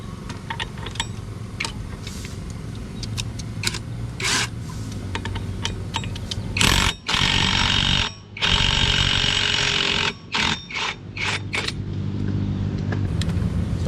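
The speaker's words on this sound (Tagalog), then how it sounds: "Guys, gumagamit ako ng impact wrench para mas mabilis kong siyang matanggal." An impact wrench zips off the CVT cover bolts of a Honda Click 125i scooter in several loud, close bursts of rattling hammering, separated by short pauses against a faint workshop background.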